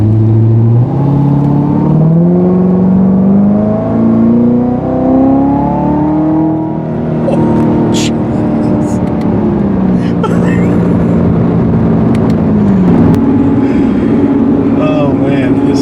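A 2019 Corvette Z06 accelerating from inside the car, a loud continuous engine drone climbing in pitch through the gears with brief shift dips, and voices talking over it.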